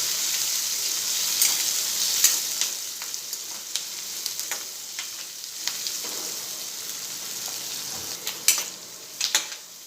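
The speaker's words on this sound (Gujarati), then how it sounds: "આપણે એડ કરી દઈશું ને મીડિયમ ગેસ પર આપણે કાંદાને ચડવી લઈશું" Chopped onions frying in a pan over a medium gas flame, a continuous bright sizzle with occasional stirring taps and scrapes, louder clinks near the end, no speech.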